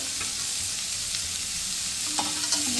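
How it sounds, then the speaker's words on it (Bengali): Banana flower with potato and poppy seed curry sizzles steadily in a pan while being stirred, with a few faint scrapes near the end and no voices. "আরো খানিকক্ষণ ভালো করে নেড়ে চেড়ে কষিয়ে নেবে"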